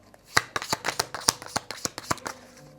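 Tarot cards are shuffled in a quick, rhythmic run of crisp riffling snaps, close and fairly loud, with no voices over them.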